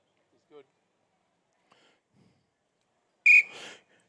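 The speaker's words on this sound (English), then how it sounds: "Once our man here's ready to blow the whistle, we'll give them the same start as we've always done." A referee's whistle gives one short, loud, shrill blast to start a race among competitors at a rural games event, standing out sharply after faint stray noises.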